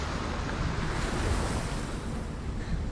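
Steady wash of ocean waves and surf in the video game Hellblade: Senua's Sacrifice, a continuous loud roar of water mixed with wind, no voices.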